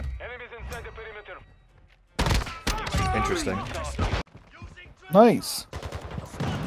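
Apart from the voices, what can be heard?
light machine gun fire in a video game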